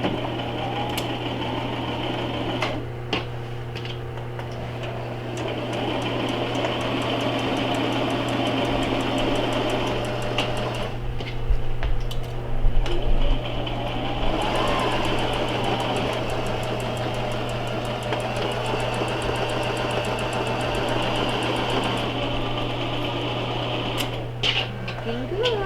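A sewing machine stitches a seam in a beginners' sewing class, a steady mechanical hum with rhythmic chatter that speeds up and slows in stretches, running under people talking with occasional clicks.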